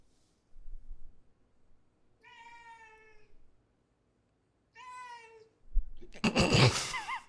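A cat meows twice indoors beside a table during an Apple Watch unboxing, two clear drawn-out calls a couple of seconds apart, followed by a brief burst of rustling and thumping movement.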